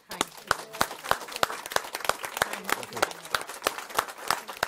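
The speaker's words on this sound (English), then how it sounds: "I'm going to give you a round of applause" Scattered clapping from a small group, individual claps distinct and uneven, fairly close and moderately loud.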